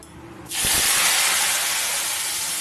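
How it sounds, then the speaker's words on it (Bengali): Fresh tender neem leaves dropped into hot oil in a wok, bursting into a sudden loud hiss and steady close sizzle after a brief quiet moment. "এখন নিম পাতা আমি কড়াইতে দিয়ে দিলাম"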